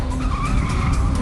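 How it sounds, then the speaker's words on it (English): Car tires skidding and squealing during a staged stunt show at a theme park, a loud sustained screech with engine roar, close and continuous, with no talking. "Thrilling car stunts that make you wonder, how did they do that?"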